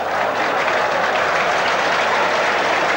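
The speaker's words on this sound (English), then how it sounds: "Brings a round of applause from the crowd." A football crowd applauds steadily at a 1985 World Cup qualifier between Israel and Australia, the clapping a dense, continuous wash that holds at an even level throughout, with no voices standing out.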